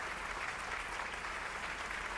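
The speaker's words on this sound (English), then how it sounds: "A big round of applause to all of you for putting up a wonderful, wonderful show" A hall audience at a national business quiz on a college campus claps in a continuous, dense wash of applause, fairly faint and distant.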